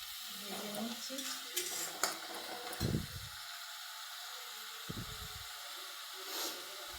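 Spices frying and being stirred in a pan after onions have browned, a soft steady sizzle with brief scraping stirs near the start and again later.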